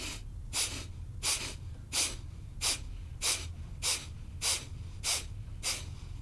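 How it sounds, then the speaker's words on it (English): Kapalbhati yoga breathing: nine short, sharp, forceful exhalations through the nose in a steady, even rhythm, close and clear with no talking. "Exhale, short, sharp breaths."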